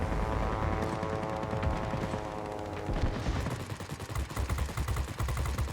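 Aircraft forward-firing machine guns chatter in rapid, dense bursts during a World of Warplanes dogfight. The loud, continuous fire rides over a steady engine drone for the whole stretch.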